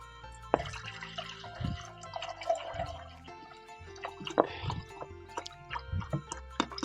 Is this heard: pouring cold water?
yes